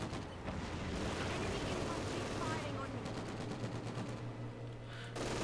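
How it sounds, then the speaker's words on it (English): A machine gun team in Company of Heroes 2 fires from a house at a sniper: dense rattling bursts of automatic fire mixed with battlefield rumble and booms, with talk over it. "MG over here on this house, opening fire on the sniper."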